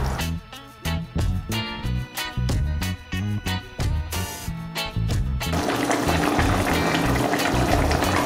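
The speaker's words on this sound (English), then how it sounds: "We're gonna add half more cup of water to this" Half a cup of water pours into a pot of simmering Jamaican curried goat and hisses against the hot liquid, a loud steady rush that follows a stretch of choppy bubbling.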